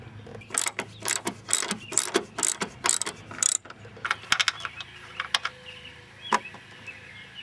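Ratchet wrench backing out 15 mm bolts on top of a Pontiac strut tower: quick, sharp ratcheting clicks in close bursts, followed by sparser single clicks and light metallic handling noises.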